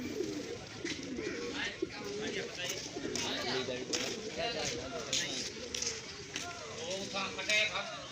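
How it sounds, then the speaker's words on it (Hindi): Black and white pigeons at a village coop near dusk, cooing in repeated low warbling calls throughout, close by, with someone talking over them. "माशाल्लाह कबूतरों के पास आ चुके हैं"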